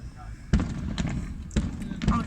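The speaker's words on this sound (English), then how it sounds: "they're finishing all their fireworks right now" Fireworks at a Fourth of July show in Valdosta, Georgia burst in a few loud booms with a rumbling tail, heard from a distance as people talk excitedly nearby.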